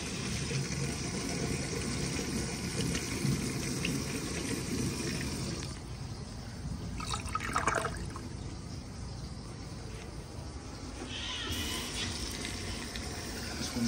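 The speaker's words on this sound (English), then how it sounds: "This thing doesn't want to stop flushing." A flushometer toilet in a gas station men's restroom keeps flushing without stopping, giving a steady, loud rush of water that runs continuously, dips briefly midway, then surges again.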